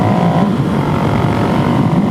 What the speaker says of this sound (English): This is a freaking awesome wheelie.